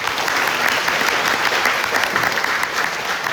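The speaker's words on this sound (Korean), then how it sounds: "추진위원님들께 큰 박수 부탁드리겠습니다" An audience at a Cheonho-dong, Gangdong-gu redevelopment residents' briefing gives sustained, even applause for the promotion committee members, loud and unbroken throughout.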